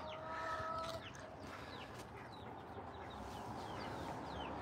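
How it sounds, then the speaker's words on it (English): Chickens in a coop cluck and chirp in short scattered calls over a dense, steady farmyard background, with no voices heard. "There's a whole bunch of chickens in there and they will fly out."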